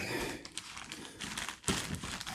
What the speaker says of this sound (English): What I'm going to do is just put a plastic bag, over the cap